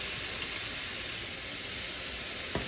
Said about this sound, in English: We're gonna get our onions into our hot oil